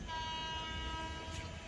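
A Sealdah–Dankuni local train running via Baranagar and Dakshineswar approaches far off, its sustained horn tone and low rumble faint and steady across the moment.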